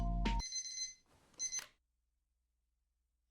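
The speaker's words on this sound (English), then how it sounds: "I open my eyes and stare at the familiar ceiling of my bedroom as my alarm clock rings." An alarm clock in the Girls' Frontline video game sounds close and clear, two short bursts of bright electronic beeping tones, then silence.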